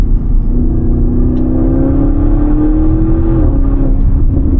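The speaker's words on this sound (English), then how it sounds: "Cars that have so much emotion from the exhaust." A 2017 Audi RS6 C7 with a 565 hp engine and Audi Sport titanium exhaust roars loudly and continuously, its deep engine note rising steadily under acceleration as heard from the driver's seat.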